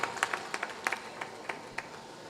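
Scattered audience clapping at a Hindi-Urdu shayari poetry recital, a dozen or so separate soft claps in an irregular sparse rhythm, fairly faint and fading out.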